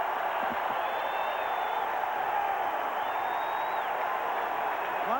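A stadium crowd at a 1987 Ohio State at LSU college football game roars as a constant, dense wash of distant noise, with a commentator's voice briefly over it and a few whistle-like tones rising above.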